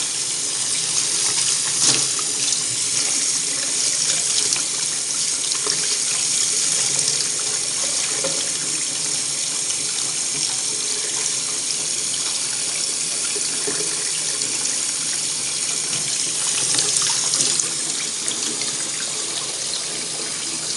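Lukewarm water runs steadily from a tap into a sink, a constant, fairly loud hissing stream that continues unbroken without talk.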